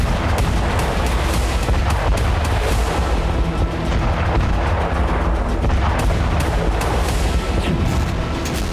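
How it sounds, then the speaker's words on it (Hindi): Heavy booms and rumbling blasts from a Russian glide bomb attack in Kupiansk, Ukraine, a dense, loud continuous barrage with sharper cracks cutting through throughout. "कुपियांस्क में रूस फ्लाइट बम से हमले कर रहा है।"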